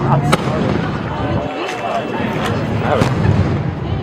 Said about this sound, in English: Oh, some more fireworks.